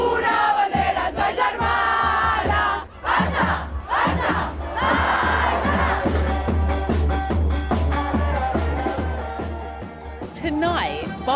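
A crowd of more than 80,000 at Camp Nou roars loudly and without pause for Barcelona's women's football team, with swelling chants and cheers layered over the massive stadium din.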